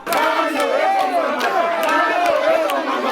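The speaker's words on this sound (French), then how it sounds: "C'est par des acclamations et cris de joie que les usagers des Zando ont choisi de saluer l'initiative des élus" Market users at a Zando market cheer and shout with joy, a loud, dense crowd of overlapping voices and cries rising and falling continuously throughout.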